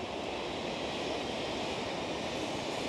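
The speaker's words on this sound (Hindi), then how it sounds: "पानी बहना तो शुरू हो गया है क्योंकि अब बर्फ़ गलने लग गई है" Meltwater pours from the Sissu waterfall in the Lahaul valley of the Himalaya, a dense, continuous rushing roar with no pauses and no voices.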